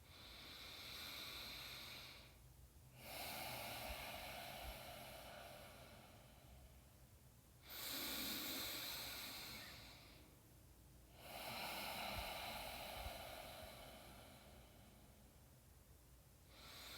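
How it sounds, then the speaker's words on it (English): Slow, deep breaths during a beginner yoga session, long airy inhales and exhales of several seconds each, close and steady. The breaths are broken by brief quiet pauses in an otherwise silent room. "so just breathe"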